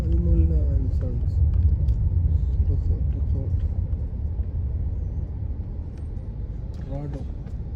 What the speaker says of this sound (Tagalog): Traffic. This slow moving.